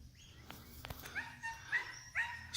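A pet dog named Lady gives soft, faint barks and whimpery yips, a few short calls spaced out over a quiet outdoor background.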